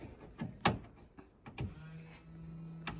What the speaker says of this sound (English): It's nitrous fuel pump